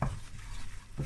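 Steady stirring of cauliflower béchamel in a pan over gentle heat, a soft continuous scraping and swishing with a thicker stroke at the start and another near the end.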